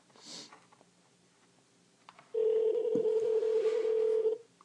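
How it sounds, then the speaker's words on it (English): A telephone rings on an incoming call, a loud steady electronic tone that starts suddenly after quiet room noise and holds for about two seconds before cutting off. "phone's ringing"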